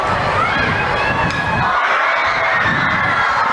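Elementary school kids in a crowd at a high school baseball game cheer and shout excitedly over a foul ball, a loud, continuous wash of high-pitched voices.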